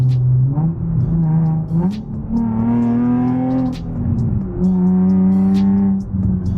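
A Nissan 350Z or Infiniti G35 engine fitted with a Z1 plenum spacer hums close up, rising in pitch as it revs through the gears, settles briefly, then climbs again under acceleration.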